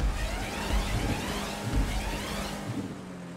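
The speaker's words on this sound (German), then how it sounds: "Oh, oh Gewitter! Wir haben zu donnern hier!" Thunderstorm in the video game GTA 5 during a stunt race: steady rain hiss blankets everything while low thunder rumbles roll beneath it, fairly loud and continuous.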